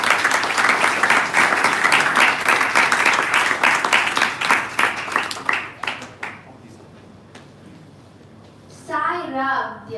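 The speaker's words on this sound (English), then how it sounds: "Let's give them a round of applause and welcome them." Warm applause greets student performers at a Mother's Day devotional gathering, a full burst of clapping that thins into scattered claps and fades to quiet, before a voice begins speaking near the end.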